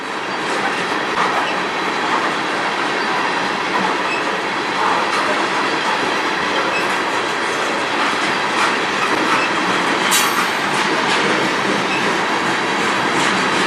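A freight train rolling past steadily on a service track with loud rumbling and clattering wheels, a brief high squeal partway through.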